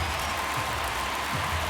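Steady crowd applause and murmur from a ninth-inning, one-run baseball game in MLB The Show 23, a continuous broadband wash filling the stadium with no clear breaks.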